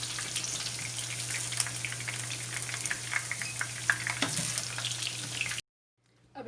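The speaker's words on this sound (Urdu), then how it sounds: "اور ان کو اچھی طرح سے فرائی کر کے نکال لیں گے" Sliced bitter gourd (karela) fries in oil with a steady, crackling sizzle and scattered pops, close and continuous, then cuts abruptly to near silence at the end.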